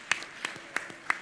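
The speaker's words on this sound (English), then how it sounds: "A round of applause, please." Audience applause at a public lecture for a Democracy Day celebration, a brief scattering of a few distinct hand claps in a room, fairly quiet and sparse.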